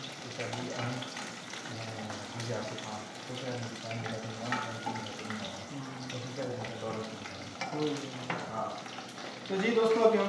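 Tap water runs steadily in a home kitchen as chicken liver is rinsed, with a faint sizzle of browning onions and occasional voices in the background.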